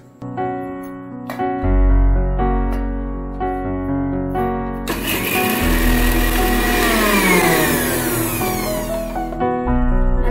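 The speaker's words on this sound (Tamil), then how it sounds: "முதல்ல இது ரெண்டையும் போட்டு மிக்சியில நம்ம அரைக்கணுங்க" A kitchen mixer grinder grinds chopped ginger and green chillies, a loud whirring roar that starts about halfway through, shifts in pitch as it runs and cuts off near the end, after a stretch of tonal background sound.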